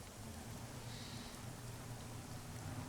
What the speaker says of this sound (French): Il pleut maintenant, c'est relou.